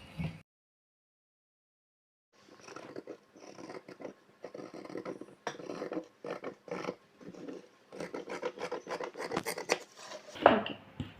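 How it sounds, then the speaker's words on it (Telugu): Scissors cut blouse fabric along marked lines, heard as close rasping, rubbing strokes in uneven bursts after a short silence, with the cutting growing busier toward the end. "ఇప్పుడు మనం మార్కింగ్ చేసుకున్న విధంగా కటింగ్ అనేది చేయాలి"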